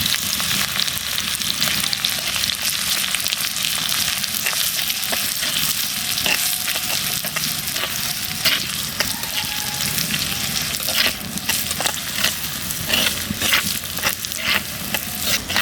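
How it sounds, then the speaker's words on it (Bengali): Garlic, onion and cumin fry in hot mustard oil with a steady, close crackling sizzle and occasional light clicks of stirring. "রসুন পেঁয়াজ জিরে আমার ভাজা হয়ে গেছে"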